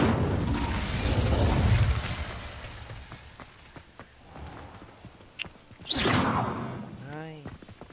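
A fire spell cast in Hogwarts Legacy: a whooshing burst of flame follows a rumbling, crackling stretch of combat effects, with sharp pops and a swirling tail near the end; brief speech appears early on.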